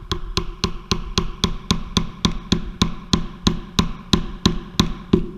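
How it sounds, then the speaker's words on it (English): A rubber mallet strikes a glued wooden dowel, tapping it into place in a steady run of about eighteen sharp, evenly spaced blows, loud and close with nothing else heard. "take the rubber mallet"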